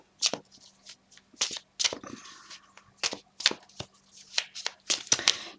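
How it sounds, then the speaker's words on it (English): Modern Witch Tarot cards are shuffled by hand in a run of crisp riffling bursts and soft slaps, close and fairly loud, with a steady low hum underneath and no talking. "I'm just going to start shuffling the cards"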